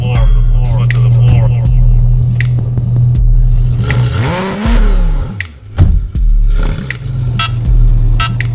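A Honda S2000 CR engine at full throttle, a loud steady drone that climbs in pitch, breaks off briefly, then surges again, close and alone without talk.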